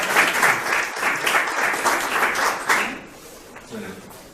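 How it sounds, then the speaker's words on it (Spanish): An audience applauds at an economics lecture on the international economic crisis, a dense, steady wash of clapping that thins and fades toward the end. "un aplauso para..."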